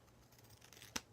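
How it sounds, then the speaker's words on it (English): Scissors snip once through the edge of a duct tape bookmark, a single quick, close cut after a near-silent pause. "I'm actually going to cut off a little bit of the edge"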